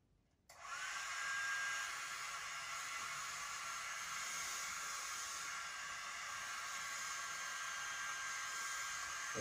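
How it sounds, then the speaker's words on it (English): A hair dryer blows a steady, loud broadband hiss that switches on about half a second in and runs unchanged to the end, with no voices. "It is a hairdryer."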